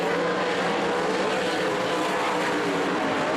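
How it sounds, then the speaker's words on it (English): Stock cars roar past at Skagit Speedway, several engines blaring together in a loud, steady drone with no talk over it as the field races down the backstretch. "Drag race down the backstretch into turn 3."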